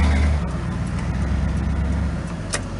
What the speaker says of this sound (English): 64 Impala convertible, 283 Power Glide